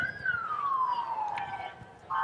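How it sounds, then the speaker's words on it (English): A single siren wail sweeps slowly downward in pitch at a Christmas parade, moderately distant and clear over a low crowd rumble, before another tone starts at the very end. "Before the sirens kind of take us over"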